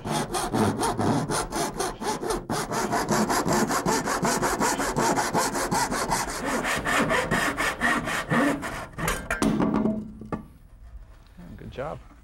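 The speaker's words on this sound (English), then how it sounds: "give myself a mark to follow as I'm cutting through the pipe" Hand saw cutting through ABS or PVC plastic pipe, a steady rhythm of rapid back-and-forth rasping strokes, close and loud, for about ten seconds before stopping and leaving quieter handling sounds.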